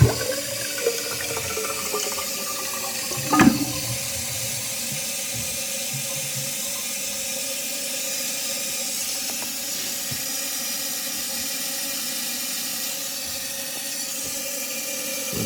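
A toilet under tank valve repair flushes and refills: a brief rush of water gives way to a long, steady hiss and trickle as the tank fills, with no talking.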